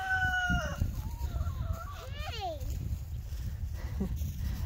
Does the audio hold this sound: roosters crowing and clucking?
yes